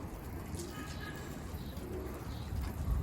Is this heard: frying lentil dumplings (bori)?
no